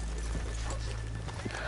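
Horses in a Western-themed video game clip-clop with hooves over a low rumbling ambience, a quiet, brief burst of steps as the horses are brought to a stop.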